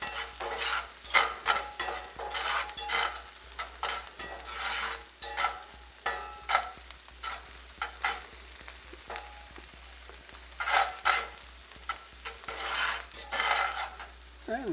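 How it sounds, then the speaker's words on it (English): Sweet corn cooks in a pan as water evaporates off, with soft crackling sizzle and repeated scraping stirs in an irregular rhythm, fairly quiet and close, with no talking. "We're going to let that cook off and any water's going to evaporate."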